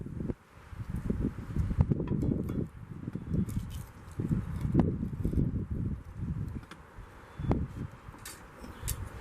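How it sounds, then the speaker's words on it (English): Strong outdoor wind on a cold day buffets the microphone in low rumbling gusts that swell and fade, with some rustling on top and no voices. "It is very, very windy today."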